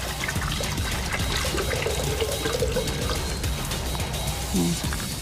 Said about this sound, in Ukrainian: Контрольную воду, которую приготовлена, наливаем.